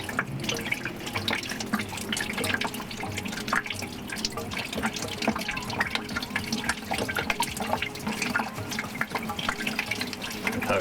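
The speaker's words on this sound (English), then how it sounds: "it's not going to drain very fast because it's not getting air back into itself" Coolant trickles from a school bus heater line into a bucket, a continuous splashing and dripping flow at moderate level, close by, with no talking.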